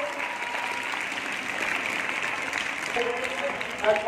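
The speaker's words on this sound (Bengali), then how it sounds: "এটা জোর হাততালি প্রামাণিকের জন্য।" An audience claps at a prize giving ceremony after an annual drill competition, with steady, dense applause throughout, faintly overlaid by an amplified voice.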